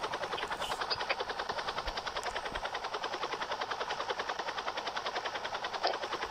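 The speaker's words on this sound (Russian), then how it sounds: "я хочу на максималку врубить звук, чтобы услышать звук вертолетика" A helicopter in the Roblox video game gives off a steady, rapid rotor chop that pulses evenly and continuously at moderate-to-faint volume, with no talk over it.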